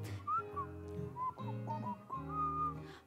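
Melodic whistling during a stage musical number from The Addams Family, a sustained tune with sliding pitched notes carried over an instrumental backing across the whole passage.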